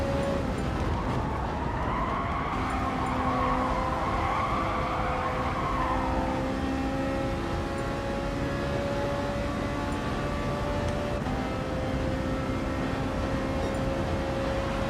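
Race cars lap a circuit in a racing video game, with a steady engine drone, whining gear tones that rise and fall, and tire skids. The sound is continuous and moderately loud, and no one speaks.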